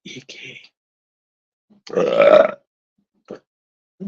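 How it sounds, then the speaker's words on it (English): A single loud, drawn-out burp stands out between short bursts of quiet voice sounds in an otherwise still room. "here comes the burp as usual."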